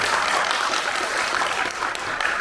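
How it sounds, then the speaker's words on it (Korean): An audience at a film screening in Korea's National Assembly breaks into a dense, steady burst of applause, many hands clapping at once for a couple of seconds with no pause. "모두 박수로."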